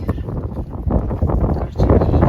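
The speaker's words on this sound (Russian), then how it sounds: "О, тут и ветер." Wind gusts buffet the microphone up close, producing a rough, rumbling roar that surges unevenly throughout.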